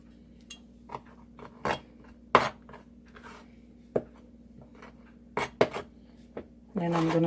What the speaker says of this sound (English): Actually, slicing this, guys.